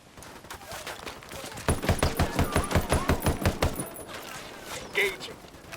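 Automatic gunfire in a GTA video game: a sustained, rapid rattle of about a dozen sharp shots over two seconds, with a softer, noisier scene before and after and a single louder bang near the end.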